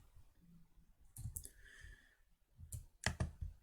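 A computer mouse clicks during a FreeCAD 3D design session: a few sharp, close clicks come in small clusters, separated by quiet pauses.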